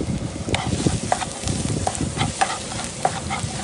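Garlic sizzling and frying in hot soybean oil for a Khmer stir-fried fish and vegetable dish, a steady dense crackle with occasional sharper pops and utensil stirring scrapes, close and continuous with no talk.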